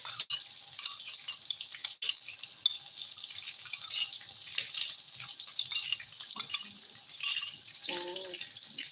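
Paste being stirred in a frying pan while it cooks at home, with soft scraping and a steady low sizzle throughout, a few brief clinks of a utensil against the pan, and no talking.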